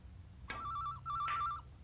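A telephone bell rings out twice in quick succession, bright and clear, with a short gap between the two bursts and no talking over it.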